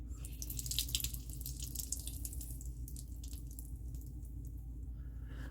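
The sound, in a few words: squeezing a sponge, water running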